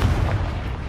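A Bombarda spell explosion in Hogwarts Legacy, a dense, loud, low booming rumble that fills the whole second without a break.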